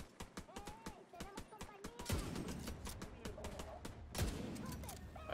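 Rapid gunfire rattles in The Division 2 video game during a shootout, sharp repeated shots in quick bursts, then denser, heavier fire with booming impacts in the second half.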